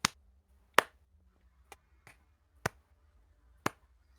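Sharp isolated hand claps ring out one at a time, six crisp snaps spaced irregularly over a few seconds against near silence, faint and close.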